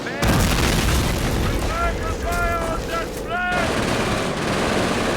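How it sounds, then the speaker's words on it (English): German MG42 light machine gun firing in the World War II strategy game Company of Heroes, loud rapid bursts amid a dense battle mix of explosions and gunfire, with voices calling out. "My MG42 light machine gun started firing."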